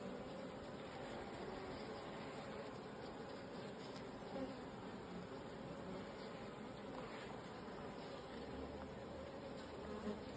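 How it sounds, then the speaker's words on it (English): Bees buzz steadily inside an open beehive while a new bee hatches from its cell, a dense, unbroken close-up drone without voices. "There's a bee hatch in here, just coming out there now, or trying to."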